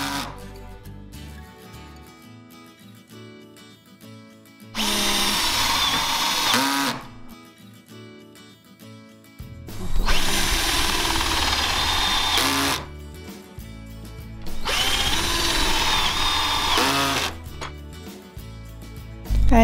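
A power drill drives screws to fit hinges and locks onto stable doors outdoors, with three loud whirring bursts of a few seconds each separated by pauses, close up.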